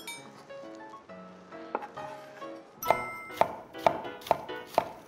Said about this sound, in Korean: 양배추는 잘게 썰기가 쉽지 않다. 몇번 왔다 갔다 해야 되겠다.